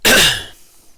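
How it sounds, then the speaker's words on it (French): A single loud, close cough, a harsh burst that quickly fades into quiet. "Désolé pour la petite toux."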